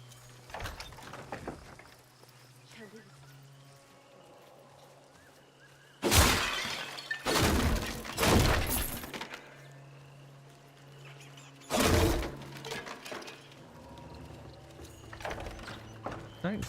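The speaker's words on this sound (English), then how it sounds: "I don't think I'm getting much from smashing barrels." Wooden barrels smash in Soulframe in several loud, crunching bursts of breaking and shattering, spaced apart by quieter stretches with a low steady hum and faint movement.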